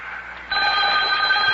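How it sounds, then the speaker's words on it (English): A telephone bell rings as a sound effect in an old-time radio show, starting abruptly after a short quiet moment and then ringing continuously and clearly, with no talk over it. "Oh, telephone's ringing. Telephone's ringing."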